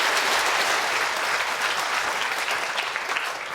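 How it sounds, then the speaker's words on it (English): A lecture audience at a Christmas science lecture on food and taste gives a big round of applause, dense steady clapping from a large crowd that tapers slightly toward the end. "big round of applause for Abel"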